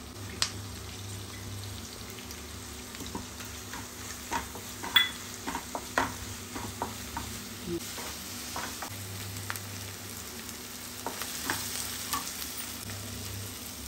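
Onions with ginger garlic paste frying in a pan for a chicken dish, a soft steady sizzle with occasional scraping stir clicks, fairly quiet and close, with no talk.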